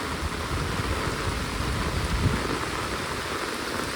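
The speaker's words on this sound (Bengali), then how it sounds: "আপনারা দেখতে পাচ্ছেন প্রচুর বৃষ্টি হচ্ছে" Heavy rain pours steadily outdoors in a Bangladeshi village, a dense, even roar of drops hitting surfaces, with no voices.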